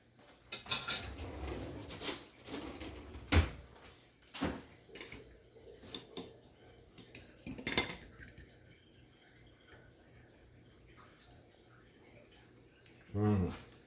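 A fork and other metal cutlery clink and rattle in scattered, fairly close taps and scrapes in a kitchen during pulled pork preparation, with a few louder knocks, while someone speaks intermittently.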